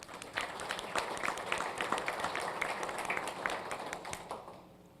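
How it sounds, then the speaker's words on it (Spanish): An audience applauding at a documentary screening held by an electoral council, a dense patter of many hands clapping at moderate level that fades out toward the end. "También un aplauso para ustedes, por favor."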